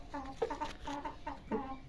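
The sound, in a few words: chickens clucking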